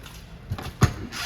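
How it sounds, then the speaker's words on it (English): The entry door of a 2022 Forest River Avenger 26DBSLE travel trailer opens with a soft latch click and a sharper clack close by, then quiet room tone. "The door just opens on up"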